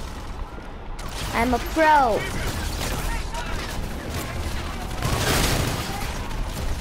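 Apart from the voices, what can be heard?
gunfire in a video game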